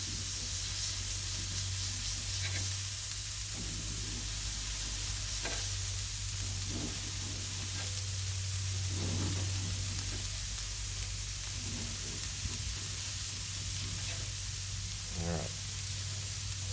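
Corn and sloppy joe mixture fry in oil on a 22-inch Blackstone griddle, giving a continuous sizzle and hiss with occasional scraping and stirring clicks from a spatula.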